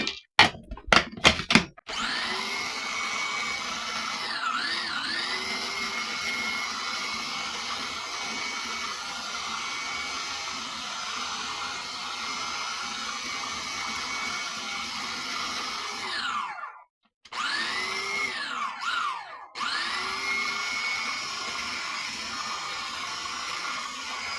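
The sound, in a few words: grinding eggplant salsa ingredients in a food processor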